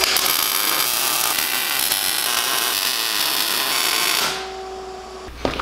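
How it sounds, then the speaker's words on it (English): A power drill bores a 3/4-inch hole through a metal rail for a custom exhaust, a loud, steady, close high-pitched whine that runs for several seconds, then winds down to a fading hum and stops with a clunk. "I went ahead and drilled a 3/4-inch hole."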